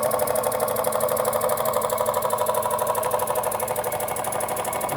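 A small model steam engine, a Jensen #70, chugs steadily with a fast, even mechanical rhythm, running continuously at close range with no talking.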